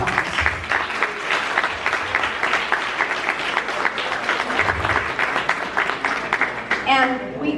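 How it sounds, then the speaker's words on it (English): An event crowd applauding Governor Ned Lamont, a steady stretch of clapping with talk mixed in and a voice rising near the end. "Let's give him a round of applause"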